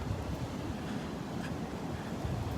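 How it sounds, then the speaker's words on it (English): Steady, rough wind rushes across the microphone with a low rumble, constant and unbroken, with no voices. "Ooh, it's windy."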